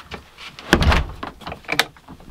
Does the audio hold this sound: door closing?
yes